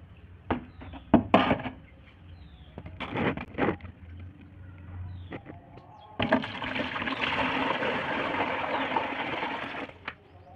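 Water being poured in to fill a betta fish breeding tank, a steady splashing gush that runs for about four seconds after a few sharp knocks and handling noises.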